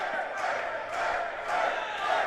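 Crowd at a wrestling show cheering and yelling in rising and falling waves, with a few louder bursts, loud and close throughout.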